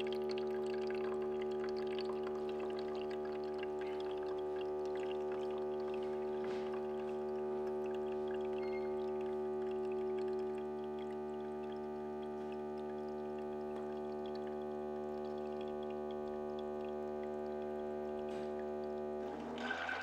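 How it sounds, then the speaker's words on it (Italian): A HumminGuru ultrasonic record cleaner drains its water automatically into a side-mounted tank, making a steady, faint humming and trickling drone with layered tonal whine, continuous for twenty seconds. "Minguru scarica l'acqua in automatico nel serbatoio inserito lateralmente"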